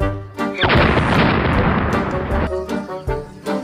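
Gunshot in a Sundanese drama film: a loud, broad blast bursts in after a short spoken line and rumbles on for about two seconds before speech resumes over it.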